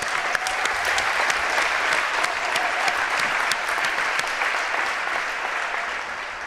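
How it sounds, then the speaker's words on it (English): Steady crowd applause in a high school gym during a boys' basketball game between Triway and West Holmes, sustained and full, with a few sharper claps standing out and no talk over it. "Give them one more round of applause."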